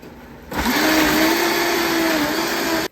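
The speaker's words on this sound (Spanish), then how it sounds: "esta licuadora es muy potente y no deja ni una semillita ni un pellejito" A powerful blender switches on sharply and whirs loudly and steadily as it purees a chile sauce with garlic for enchiladas, then cuts off abruptly at the end.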